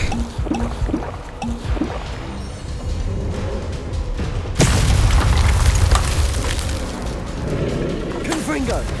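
A Confringo fire spell bursts in Hogwarts Legacy, a loud booming blast midway through amid busy combat noise, with a voice speaking over the action.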